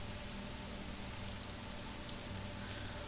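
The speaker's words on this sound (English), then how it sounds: "this fog and rain just makes me think of what it's like outside right now" Rain in the video game Marble Nest falls as a faint, steady hiss with soft scattered drop ticks, continuous and even, with no talking.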